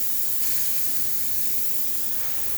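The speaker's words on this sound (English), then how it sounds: "Let's test the steamer." The steam wand of a freshly serviced La Pavoni espresso machine gives a loud, continuous, broadband hiss of escaping steam for a few seconds.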